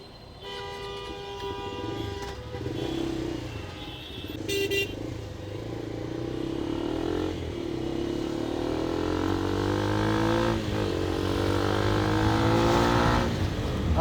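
A Bajaj Pulsar NS400Z motorcycle, a 400cc bike, accelerates on the road, its engine note climbing steadily in pitch and loudness through the gears, with a brief horn toot early on and wind noise around it.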